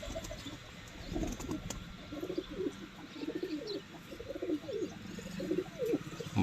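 Soft, repeated coos of slaty pigeons rolling on through the clip, several birds murmuring close by with faint chirps in the background and no talking.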